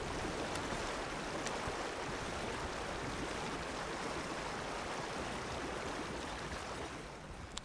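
A river flows near the crossing into New Austin in Red Dead Online, a steady, full rush of water that holds evenly throughout with no voices over it.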